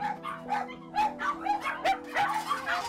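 A small puppy yipping and whimpering in a rapid series of short, high barks, close and moderately loud over a faint steady hum, with no talk.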